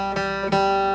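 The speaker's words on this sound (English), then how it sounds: "See, I let it ring into the next passage." Flatpicked acoustic bluegrass guitar playing two picked notes that ring out and sustain, the second struck about a third of a second after the first, clear and close with no talking.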